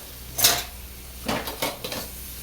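Dishes being washed by hand clatter and clink close by in separate bursts: a sharp ceramic knock, then several quicker rattles of plates and cutlery, with quiet gaps between them.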